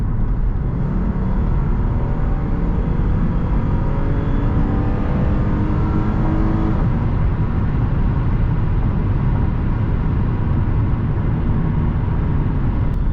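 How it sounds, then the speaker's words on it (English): A 2007 Lexus GS350 with a V6 accelerating on a highway: a steady, loud cabin roar of engine and road noise, with a rising engine tone through the first half. "if you want to go a little bit quicker, the V6 does have a good amount of pickup to it"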